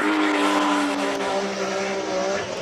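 A BMW E46 race car launching at a Cape Town hillclimb gives a loud, close engine roar with rising and shifting revs that fills the whole moment, with no talk over it.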